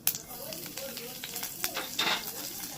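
Crushed garlic sizzles and hisses steadily in hot oil in a pan, a close, continuous frying crackle.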